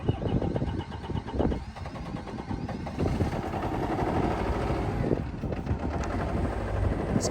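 An excavator's engine runs loud and continuous after starting, a rough rumbling drone with slight fluctuations in intensity, close by, with brief voices in the background.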